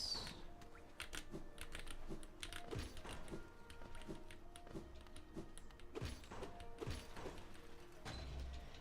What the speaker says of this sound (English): You might be able to set up tuning out ambient sound on your OBS that filters out keyboards a bit